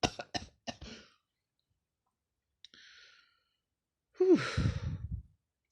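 A few short coughs come first, then a faint breathy exhale, and finally a louder rough cough-like burst with a sigh, no speech.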